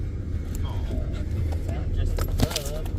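A dog panting in a truck cab, soft breathy huffs and a few small whimpers under steady engine and road rumble, with people talking nearby.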